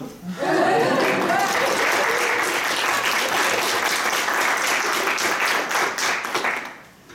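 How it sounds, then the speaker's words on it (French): Audience applause after a student human resources management presentation, a burst of close, dense clapping with some chuckles and voices mixed in, holding steady for several seconds before tapering off. "Tu peux applaudir."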